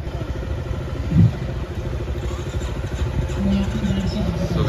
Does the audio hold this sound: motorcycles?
yes